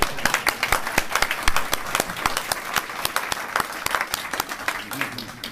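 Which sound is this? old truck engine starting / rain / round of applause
round of applause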